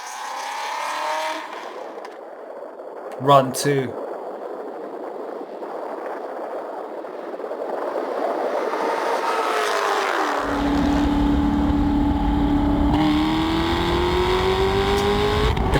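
A Corvette ZR1 and a Hellcat accelerate in a drag race, a sustained engine roar building steadily and growing louder with a rising whine near the end, after a brief spoken announcement early on.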